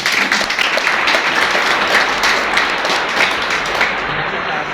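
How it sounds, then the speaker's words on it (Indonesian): Audience at a school poetry reading competition applauds, many hands clapping loudly and steadily, with a few sharper claps near the front, before the applause thins and stops near the end. "Tepuk tangan dong"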